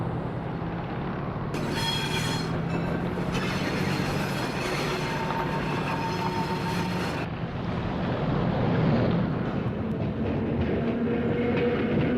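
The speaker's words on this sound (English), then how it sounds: "This B-line train is about to cross Adeline and run past a factory" A B-line electric train in Oakland runs past a factory, producing a loud continuous rumble with rhythmic clickety-clack from the wheels and a rushing, windy roar that swells slightly toward the end.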